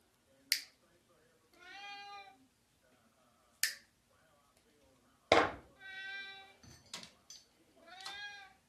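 Indoors in a Michigan workshop, a cat gives several drawn-out meows, moderately close, interleaved with sharp finger snaps or clicks in a quiet room.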